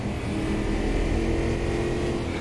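A race car engine drones steadily in a racing video game, a continuous loud, dense roar with no audible gear changes or talking.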